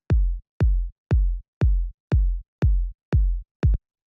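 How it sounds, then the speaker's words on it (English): A soft, deep, warm deep house kick drum thumps eight times in an even, steady pulse at about 119 BPM, each hit round and booming with a short decay, loud and alone. "the first sound we have here is the kick"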